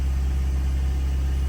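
Ford Transit 2020 diesel van engine running at raised revs during a forced DPF regeneration, a steady close low-pitched drone and rumble holding even throughout with no voices.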